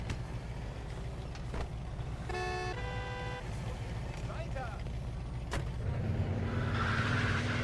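Car engine idling and revving in the Mafia 2 video game, a steady low rumble throughout with brief tonal beeps, building louder toward the end as the car pulls away; a voice speaks over it.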